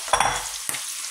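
Onion and green pepper tipped into a hot frying pan for a pepper omelette, a loud burst of sizzling and stirring followed by a second short clatter, with steady frying hiss continuing throughout.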